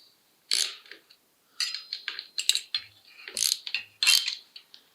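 A tool with a T25 Torx bit loosens the caliper bolts on a SRAM bicycle disc brake, giving several bursts of close ratcheting clicks separated by short pauses, with no talk.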